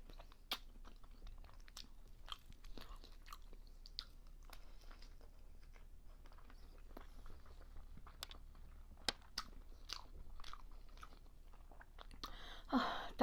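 Someone eats Iraqi pacha dishes up close, with soft, irregular chewing, biting and crunching that stays faint and quiet, and a slightly louder rustle near the end.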